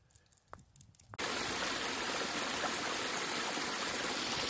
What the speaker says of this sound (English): This water here is just absolutely amazing. I mean, coming right off of a glacier.